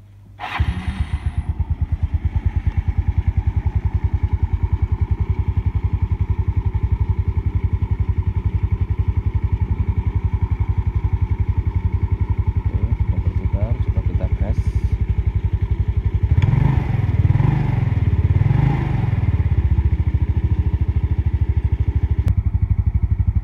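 A Yamaha Mio Sporty scooter engine fires up after CVT repair work, then settles into a loud, close, steady idle with a brief rev partway through.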